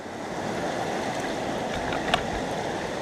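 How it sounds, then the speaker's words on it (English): A gentle stream flows over bedrock at a gold-sluicing spot in North Wales, a steady close rushing wash with one small splash partway through. "What we've got here is a nice gentle flow of water with bedrock."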